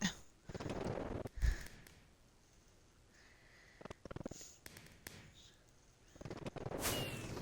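Fireworks go off in a Minecraft game. Several sharp, scattered pops and bursts stand out over faint, breathy background noise.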